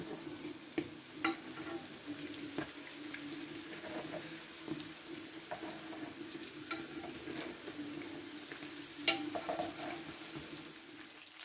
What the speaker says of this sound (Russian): жарим с двух сторон до золотистой корочки